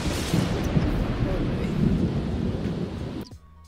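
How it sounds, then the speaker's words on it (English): Heavy rain pours down outside, a loud, steady wash of noise that continues for several seconds before cutting off abruptly near the end. "it is just raining so hard out here"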